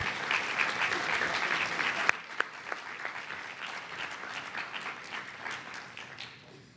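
An audience applauding to welcome the Jersey City mayor at a leadership studies event, a dense wash of clapping that thins and fades toward the end.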